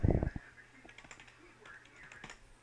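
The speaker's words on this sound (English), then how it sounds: "what you do is you type in tracer T" Fingers tap out a command on a computer keyboard in a quiet room, a loud thump at the start followed by a scattered run of light, uneven keystrokes with soft pauses between them.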